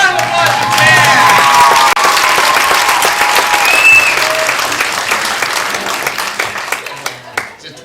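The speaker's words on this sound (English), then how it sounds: "Big round of applause for Chad." Loud crowd applause at a live magic show, steady dense clapping with some cheering that gradually thins and fades toward the end.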